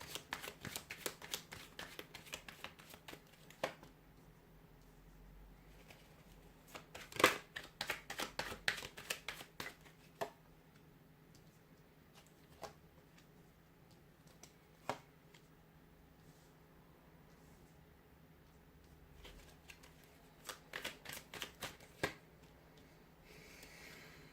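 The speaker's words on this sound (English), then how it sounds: "We'll give the cards a shuffle" Tarot cards are shuffled in several bursts of crisp riffling and tapping, separated by quiet pauses, close and fairly soft.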